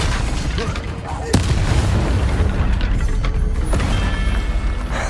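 An Incendio fire spell cast in the Hogwarts Legacy video game gives a sudden loud booming burst over a continuous, roaring rumble of battle, with speech blended into the noise.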